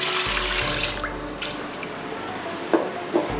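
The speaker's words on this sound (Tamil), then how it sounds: "இப்போ இதில் வந்து ஒரு 2 கப் அளவு தண்ணி விடலாம்." About two cups of water pour steadily into a pressure cooker holding washed rice and dal for nombu kanji, a close, continuous splashing stream with small drips near the end.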